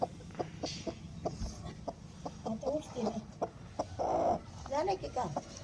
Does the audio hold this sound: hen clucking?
yes